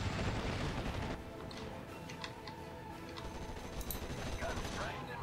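Dense, continuous gunfire from infantry units in the WWII strategy game Steel Division: Normandy 44, amid Normandy hedgerows, rattling steadily with scattered sharper cracks throughout, loud and sustained with battlefield noise beneath.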